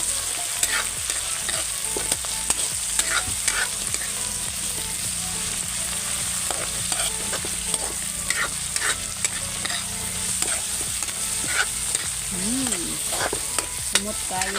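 Vegetables and spices sautéing in a pan for lumpia filling, a continuous close sizzle with repeated scraping and clinking of a stirring utensil against the pan, no talk.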